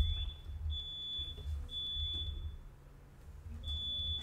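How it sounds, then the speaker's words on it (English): A smoke alarm set off by home cooking gives a run of shrill, high electronic beeps in repeating bursts, clear and steady over a quiet room with no talking. "Smoke alarm. My wife doing some cooking."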